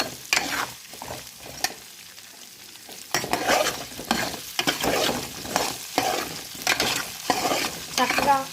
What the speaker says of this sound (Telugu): ములక్కాయ ముక్కలు, అల్లం వెల్లుల్లి పేస్ట్ అన్నీ కలిసేలాగా కలుపుకుందాం.